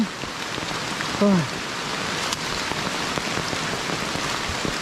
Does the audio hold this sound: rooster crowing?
no